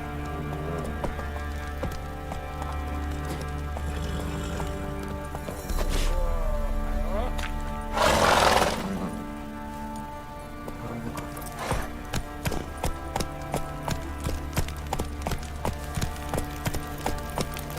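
A horse galloping in The Witcher 3 video game: rhythmic clip-clop hoofbeats against a low ambient game background, with a whooshing burst midway and steady repeated hoof strikes toward the end.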